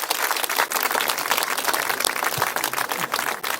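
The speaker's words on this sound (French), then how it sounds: "On va applaudir Dorian Demarque, le facteur de géant." Crowd applause at an outdoor celebration honoring the maker of a parade giant at its christening, a steady dense clapping that fills the whole stretch without pause.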